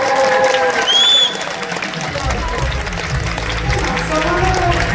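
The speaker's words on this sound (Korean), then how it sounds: "뜨겁고 강렬한 박수로 환영해 주시면 감사하겠습니다" Wedding guests applaud as the bride's parents enter the hall, a broad wash of crowd clapping with music and a voice over the top.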